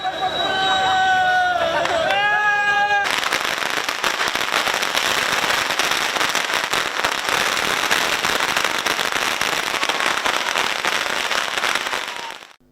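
Firecrackers burst in a dense, continuous crackling barrage at a celebration of an election victory, loud and close, with a crowd's chatter beneath and a brief tonal sound before the bursts begin.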